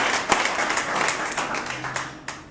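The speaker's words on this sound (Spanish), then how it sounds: "Dámale un aplauso bien grande porque Él se lo merece por lo que hizo por ti" A church congregation claps together during a sermon, a dense, steady wash of applause that holds for a few seconds and thins slightly near the end.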